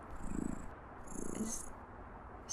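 A cat purrs softly in a pair of low, rumbling pulses, faint and close, with a high electronic hiss running above it in intermittent stretches.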